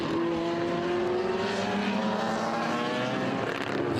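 Vintage race cars, including a BMW, roar around Circuit of the Americas (COTA) in an SVRA race, their engines a loud, continuous blend of whining drones that shift in pitch as the cars pass.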